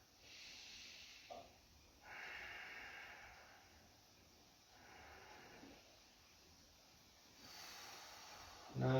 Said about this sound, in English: Nice, long, even breaths